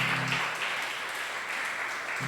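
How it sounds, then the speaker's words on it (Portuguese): A church congregation applauds in a steady, fairly faint wash of clapping, with a brief tonal sound at the start and end. "aplauda o Senhor em nome de Jesus."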